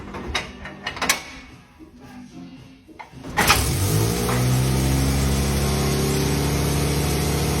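A Morris 1000 engine cranks briefly after some mechanical clicks, then catches and settles into a steady idle that carries on close by to the end.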